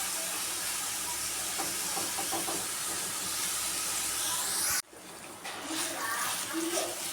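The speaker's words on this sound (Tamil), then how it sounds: "மீடியம் சைஸ் தக்காளி ரெண்டு கட் பண்ணியிருக்கோம் இதையும் போட்டு நல்லா வேக வச்சுக்கலாம்" Two medium cut tomatoes sizzle and hiss steadily in a hot pan, a loud continuous fry that briefly cuts out then resumes with spattering, as a voice talks over it.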